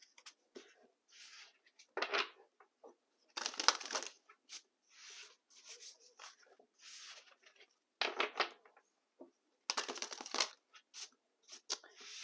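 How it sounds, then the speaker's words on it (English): Tarot cards are shuffled in several quick crisp riffling bursts separated by short pauses, close and fairly quiet. "So let's do some shuffling so we can pull the overall focus."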